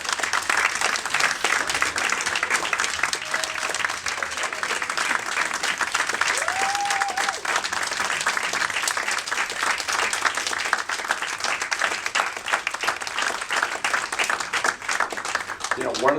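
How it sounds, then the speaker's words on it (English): An audience at a Teach For America Hawai'i event gives a sustained round of applause for the standing core members, dense steady clapping filling the room for the whole stretch, with faint voices mixed in. "I want the rest of us to give them a round of applause."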